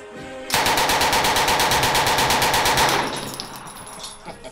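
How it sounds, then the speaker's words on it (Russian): MP-40 9 mm submachine gun fires one sustained burst of about two and a half seconds, a fast even rattle of loud close shots, then a short fading echo. "сначала будет МП-40, 9-миллиметровый пистолет-пулемет"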